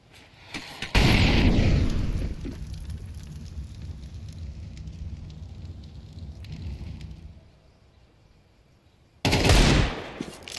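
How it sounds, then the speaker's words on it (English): A heavy grenade blast with rumbling aftermath in a Counter-Strike esports match, followed by a quieter stretch and then another loud burst of gunfire and explosion near the end. "That is a chunky nade"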